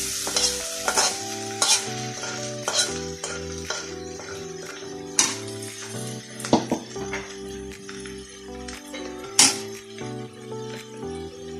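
Bitter gourd and potato being stirred in a frying pan with a little oil, the spoon scraping and clinking in irregular strokes over a light sizzle, with steady tonal music underneath.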